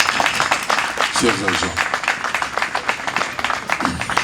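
An audience at a SOCODA copyright society gathering claps in a dense, continuous patter, with a voice speaking over the applause at moments.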